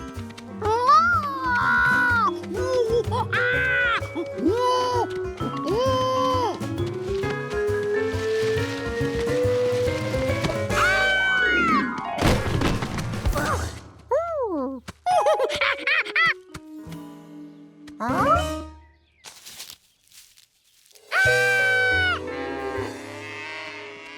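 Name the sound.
cartoon monkey imitating a cow mooing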